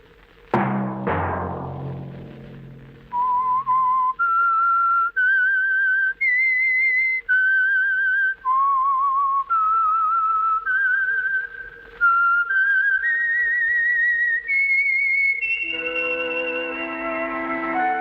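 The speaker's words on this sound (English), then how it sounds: "Let that whistle be your signal for the Signal Oil program, The Whistler" A lone whistler carries the theme tune of The Whistler radio program, a clear, close melody of held notes rising and falling in steps after a few opening chimes.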